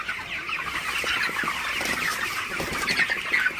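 Broiler chickens in a shed at night, a dense, steady chorus of soft clucks and murmurs from many birds, close and continuous, with no talk.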